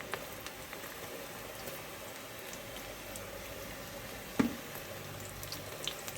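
Moringa leaf pakodas deep fry in hot oil with a steady, soft, even sizzle throughout and one brief louder crackle partway through, with no talking.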